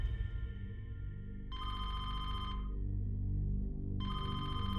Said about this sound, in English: phone rang out of the blue on a Friday morning